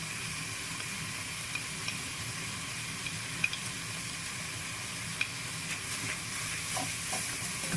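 Mallow and coriander go into a pan and are stirred, making a soft, steady sizzle and hiss with light scraping and occasional faint clinks.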